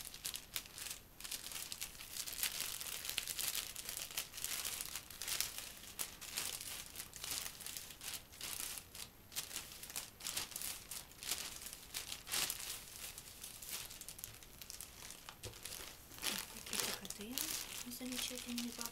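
Plastic cosmetic packets from Avon being unwrapped and handled, giving continuous close, dense crinkling and rustling throughout, with brief talk near the end.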